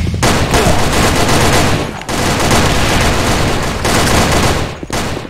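Gunfire in an online shooter game: loud, dense bursts of rapid shots that run almost continuously, broken by a few brief gaps.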